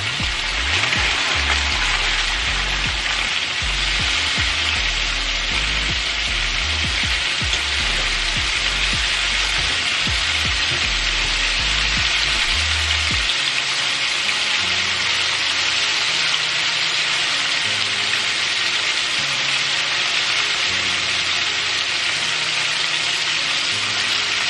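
Corn on the cob deep frying in oil, a loud, dense, unbroken bubbling sizzle close up, with some low knocking and rumbling in the first half before the frying carries on alone.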